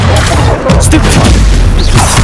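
A Stupefy stunning spell fires in Hogwarts Legacy, a loud booming magical blast amid dense, continuous combat noise, with voices talking over the action.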